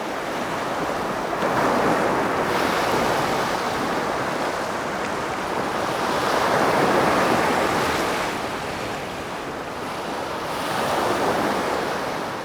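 Sea waves wash into a rocky tide pool in slow, rolling surges that swell and recede several times, a continuous close hiss of water with no voices.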